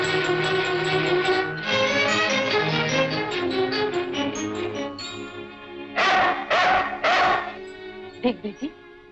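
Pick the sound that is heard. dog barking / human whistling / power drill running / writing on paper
dog barking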